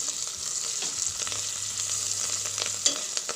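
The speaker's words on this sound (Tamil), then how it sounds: "எல்லாம் சேர்ந்து இப்போது நல்லா வதக்கிக்கணும்" Mint leaves and other ingredients sautéing in a pan for chicken biryani make a steady moderate sizzle with close stirring and scraping, plus a small knock near the end.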